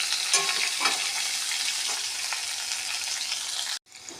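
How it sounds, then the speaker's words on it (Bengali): Potato pieces fry with a little turmeric in a pan, a loud, continuous sizzle with occasional stirring clicks, cut off abruptly near the end. "সবসময় আলু ভাজার সময় একটু হলুদ দিলে দেখতে সুন্দর লাগে"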